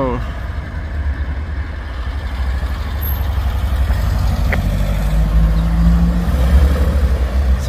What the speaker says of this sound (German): Da kommt ja schon eine Porsche